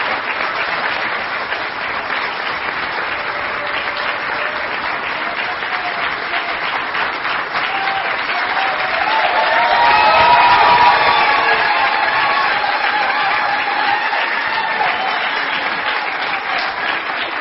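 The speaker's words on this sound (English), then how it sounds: "How about a nice round of applause for our candidates as they enter with us this morning?" An audience at a Senate debate in Wilmington, Delaware applauds as the candidates enter, giving sustained steady clapping that swells a little midway before holding level.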